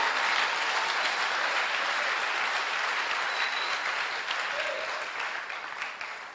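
A church congregation breaks into sustained applause, a dense wash of clapping that holds steady and then slowly fades toward the end.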